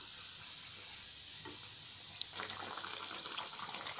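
Egg mughlai paratha frying in oil on a pan: a steady, even sizzle with a faint watery crackle, close and continuous, with one sharp tick and slightly livelier spattering later.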